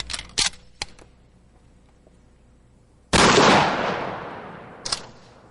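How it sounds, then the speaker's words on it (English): A 12 gauge shotgun fires a rifled slug at a mannequin as a single loud, close blast with a long rolling decay. Light clicks and handling noises come before it, and a small sharp knock follows. "the mannequin is shot with a rifled slug"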